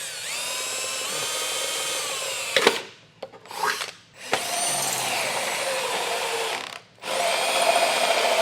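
A power drill bores through raw metal on the front bumper of a 2023 Jeep Grand Cherokee 4xe, a loud, close, steady whine with a few short stops and restarts, no voices.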